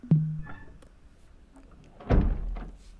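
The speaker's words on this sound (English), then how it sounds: "I'm going to go ahead and get my canopy closed" An AH-64D Apache helicopter's cockpit canopy closes in a flight simulator game, giving a sharp thunk at the start and a heavier latching thud about two seconds later, both close and distinct.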